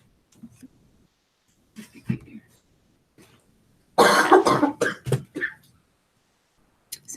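Several people coughing in a room during an indoor group ritual gathering, scattered single coughs at first, then a loud burst of repeated coughing near the middle, with quieter throat clearing between.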